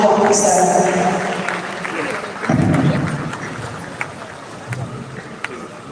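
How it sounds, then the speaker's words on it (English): An audience at the Nutrition Society of Nigeria conference opening ceremony claps, a dense burst that fades over a few seconds while a voice speaks over it. "Please, a warm round of applause for you."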